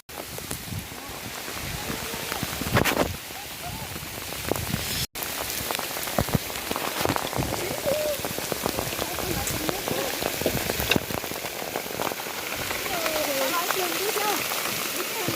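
Rain pattering steadily on surfaces and foliage at a rural farm field, a dense continuous hiss with scattered close drops throughout.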